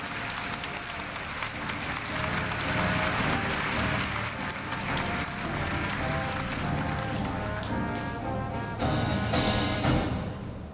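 A crowd of new students and guests at a university entrance ceremony claps loudly and continuously, a thick sustained applause that swells slightly near the end.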